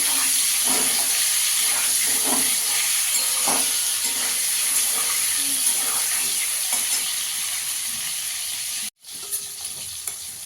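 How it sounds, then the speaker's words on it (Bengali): Eggs lightly frying in oil in a pan for egg korma, a steady close sizzle with soft stirring scrapes throughout, cutting off briefly near the end before resuming. "ডিমগুলো একটু হালকা করে ভেজে নেব।"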